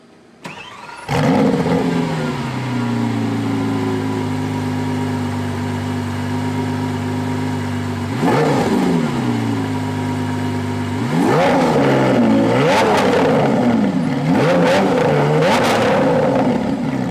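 A Lamborghini Aventador SVJ's V12 engine cranks and fires, settles into a loud, steady idle close by, then blips once and rises into several sharp revs near the end.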